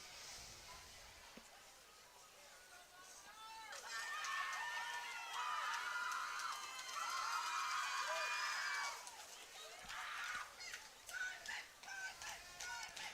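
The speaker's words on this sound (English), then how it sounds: "Monarch students still working hard in the cheer section there." Student cheer section at a high school football game, Monarchs hosting Seton Catholic: a crowd of young voices yelling and chanting in a rising, sustained burst, then choppier shouts, with an announcer's voice on top.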